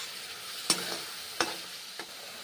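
Masala spice paste sizzles steadily as it fries in a pan, with three sharp stirring scrapes that click out at uneven intervals over a continuous hiss. The frying is close and moderately quiet, and no one speaks.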